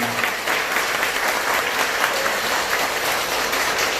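A roomful of people at a Buddhist dharma service in a temple claps in dense, continuous applause, an even wash of many hands at steady volume throughout with no talking over it.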